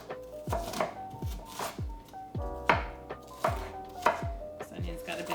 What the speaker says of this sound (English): So we'll start off by slicing our veggies